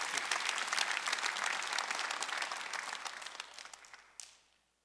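A church congregation at a Sunday worship service breaks into brisk, dense applause that carries on for several seconds, then thins and fades to quiet.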